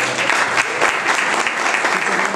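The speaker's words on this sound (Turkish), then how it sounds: "buraya alkışlarımızla davet edelim" An audience bursts into loud, sustained applause to welcome a speaker at a religious gathering, with dense clapping filling the space throughout.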